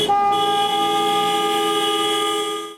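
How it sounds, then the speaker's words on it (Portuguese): A car horn blares from a mourning protest convoy in city traffic in Vitória, one loud sustained honk held for nearly three seconds, close and steady. "Buzinando, eles chamaram a atenção no trânsito."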